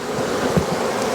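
Honeybees hum in an open hive packed wall to wall on both sides, a dense close buzz with a soft windy hiss, short and unbroken.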